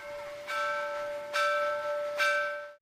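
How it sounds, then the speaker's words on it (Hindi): A school bell rings out with three strokes about a second apart, each leaving a bright sustained tone before it cuts off abruptly. "इस स्कूल की घंटी की आवाज ठाकुर के उस खौफनाक सन्नाटे को हमेशा के लिए दफन कर देगी।"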